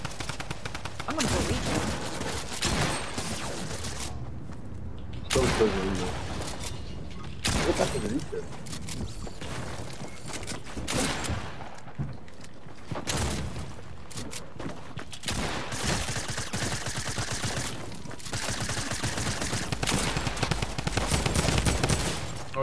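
Gunfire in the game Fortnite during a live event: repeated bursts of rapid automatic fire and scattered single shots, loud and near, coming in clusters separated by short gaps, with a person talking over parts of it.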